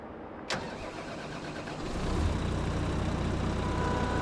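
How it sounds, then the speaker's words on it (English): A Valtra tractor engine starts up in a farming video game, beginning with a sharp click, then cranking and swelling into a steady, loud idle that continues without any talk. "Start the engine."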